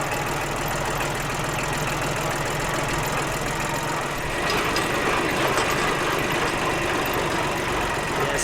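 A tractor engine runs steadily, its low rumble and vibration carrying on throughout as the machine jolts along a bumpy farm track, slightly louder toward the end.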